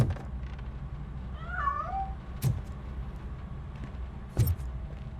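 Cat in RoboCop: Rogue City gives a single faint, wavering meow amid low ambient game noise, followed by a couple of soft thuds.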